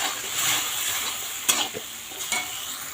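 Ginger, cumin, green chilli and onion sauté in a pan for an egg curry, giving a loud close sizzle with scraping stir strokes and a few sharp clinks of the spoon against the pan.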